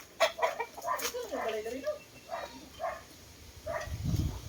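A chicken in a backyard coop gives a run of clucks and throaty warbles up close, followed by a few spaced single clucks and a low rumble of handling noise at the end.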